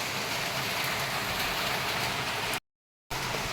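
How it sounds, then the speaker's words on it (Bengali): Heavy, nonstop rain falls outside, a steady hiss of rain on surfaces at moderate level, cut by a brief dropout of total silence near the end before the downpour resumes. "আর বাইরেটা তো নন স্টপ বৃষ্টি হয়ে যাচ্ছে"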